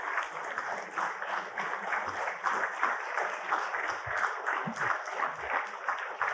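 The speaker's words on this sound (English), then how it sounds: "With a round of applause for Kalpen Parekh." Audience applause for Kalpen Parekh as he is invited on stage at an investment event, a steady dense wash of many hands clapping that carries evenly at moderate volume throughout.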